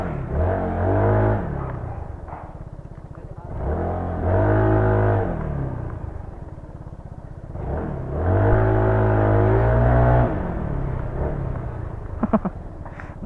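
A stock Yamaha NMAX scooter engine revs hard to high RPM in three loud, close bursts, each climbing and holding before dropping back to a lower idle rumble.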